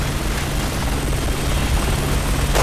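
Steady helicopter rotor drone in the Resident Evil 6 video game, a continuous loud mechanical whir with low thumping that fills the whole stretch without any voices.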